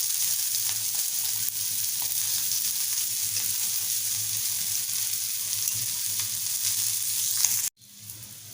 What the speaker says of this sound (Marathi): मांडेली फ्राय व्हायला जास्त वेळ लागत नाही पटकन होतात फ्राय थोडंसं साईडनं तेल सोडून घेऊया